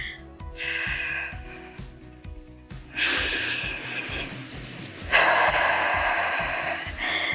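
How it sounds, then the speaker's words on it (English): A breathy exhale during a Pilates press in a resistance band and ring core workout, with airy breaths over a steady rhythmic background beat and a louder burst of breath near the end. "And exhaling on the press"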